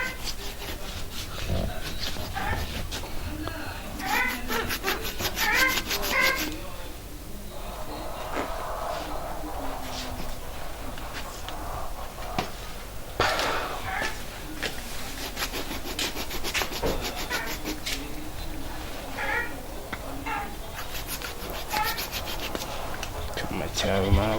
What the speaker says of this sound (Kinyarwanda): Ubu ngubu ngiye kuyisatura nyikuremo ibyo mu nda.